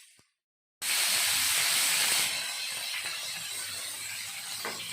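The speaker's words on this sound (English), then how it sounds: "You can hear the sizzling sound. Let it fry till it is golden brown at one side." Paneer tikka pieces hit a hot pan and begin frying, setting off a loud, steady sizzle that starts abruptly after a short silence and then eases slightly but keeps hissing.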